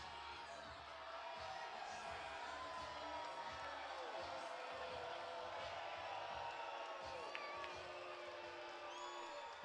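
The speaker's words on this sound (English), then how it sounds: "Loud sounds from the Joliet crowd." Crowd at a Joliet baseball game in the Midwest Conference, a steady dense roar of voices and cheering that holds at a constant level throughout, with scattered whoops rising above it.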